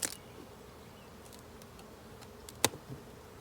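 Honeybees hum in an opened hive, a faint, steady buzz with a few sharp clicks and brief louder buzzes, heard alone at close range.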